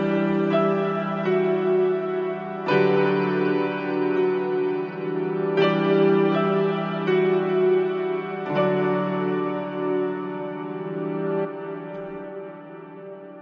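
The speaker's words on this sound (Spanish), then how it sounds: "con la reverb la ponemos en reversa y suena así" A reversed, reverb-drenched piano chord, made in FL Studio, sounds as a sustained, washy tone that re-swells in three or four overlapping waves before slowly fading, heard alone without voices.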